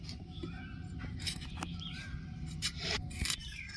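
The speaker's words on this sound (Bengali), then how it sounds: "পটলের এই পেছনের অংশটা আমি কেটে নিচ্ছি।" A knife trims the ends off pointed gourds (potol) on a hard surface, giving a few sharp, close snipping cuts spread over a few seconds with quiet room noise between them.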